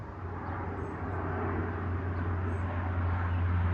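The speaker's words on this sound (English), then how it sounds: "Plane going by." An airplane flying overhead, a steady broad rumbling drone that builds slightly in loudness over a few seconds, with no voices.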